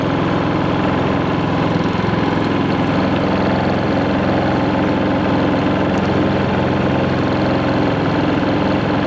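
A Predator 3500 inverter generator runs steadily on eco throttle, a constant mid-pitched engine drone with a faint vibrating rattle that holds even and unbroken from start to finish, close and loud, with no voices.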